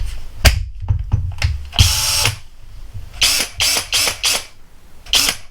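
A Greenworks 24V brushless cordless drill spins up in a run of short bursts: one longer whir, then several quick trigger pulls in a row, each whine stopping sharply, close and fairly loud with quiet gaps between.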